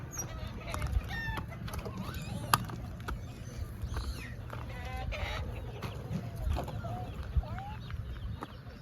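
Many chickens in a home coop cluck and chatter nearby in a busy, continuous jumble, with occasional sharp squawks and people talking faintly underneath.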